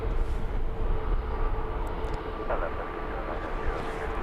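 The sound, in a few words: Dassault Falcon 7X jet departing London Luton Airport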